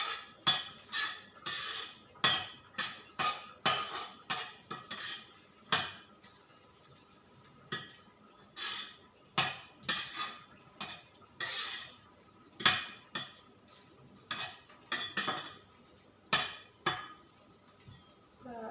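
Garlic being sautéed in a pan for scrambled eggs with garlic, onions and tomatoes, stirred steadily: repeated sharp scraping clinks of a utensil against the pan in an uneven rhythm over a faint background sizzle, close and moderately loud.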